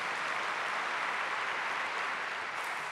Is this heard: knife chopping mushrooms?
no